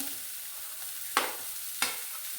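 Chopped carrots and onion frying in a pan for egg rice, a steady close hiss with two sharp clinks of a spoon scraping and stirring, no talk.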